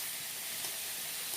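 Onion, garlic and ginger paste frying with potatoes in a pan, giving a soft, even hiss and faint sizzle heard close by throughout, with no voices.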